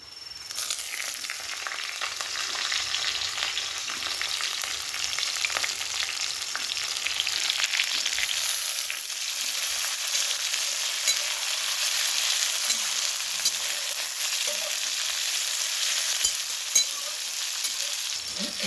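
Tomatoes and green chillies fry in a pan with a constant soft hiss and sizzle, broken by occasional light scrapes of stirring, close and steady with no talk.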